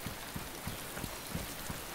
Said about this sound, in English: And the rain kicks back in.